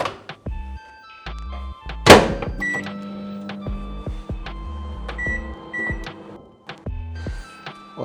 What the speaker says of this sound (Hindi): बट इसको करेंगे थोड़ा सा माइक्रोवेव।